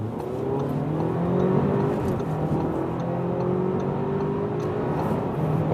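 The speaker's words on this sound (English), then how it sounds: "we'll start from 40 kilometers an hour and accelerate it out" A 265-horsepower luxury sedan accelerates hard from 40 km/h, its engine droning loudly and steadily with rising pitch from inside the cabin, with a constant road and wind roar underneath and no talking.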